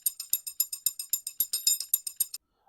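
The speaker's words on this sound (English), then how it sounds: "The percussion sound like this." A crisp Amapiano percussion loop of about sixteen quick, bright metallic hits in a steady rhythm, played alone, then stopping short before the end.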